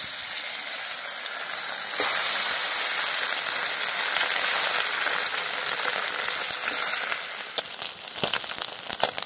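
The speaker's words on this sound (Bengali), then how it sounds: "বড় বড় পার্শে মাছটা আমি ভেজে নেব।" Large parshe fish fry in hot oil, a steady close sizzle with bright crackling spatter that holds throughout and eases slightly near the end, with no voices.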